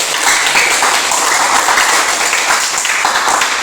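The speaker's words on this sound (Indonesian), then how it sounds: "Kita berikan aplaus untuk kelompok" A classroom of students applauds a student group after a biology presentation, steady, dense clapping from many hands, loud and close throughout.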